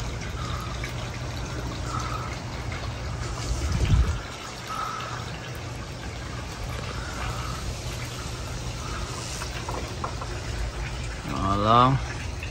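Water bubbling and trickling steadily in a backyard koi pond after a dose of D-Solv Oxy pond cleaner, with a low continuous wash and a voice speaking briefly over it.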